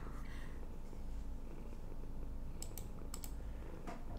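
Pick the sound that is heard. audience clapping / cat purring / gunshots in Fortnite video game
cat purring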